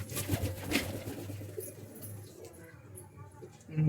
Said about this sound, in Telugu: ఇంకో నాకు ఎంతో ఇష్టమైన నెమలి పావురాలు చూడండి ఎలా ఉంటాయో